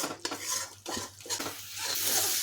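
A spatula stirs spices and dry-roasted gram flour in a pan. Close scraping and clinking of metal on the pan come in uneven strokes, over a faint background hiss.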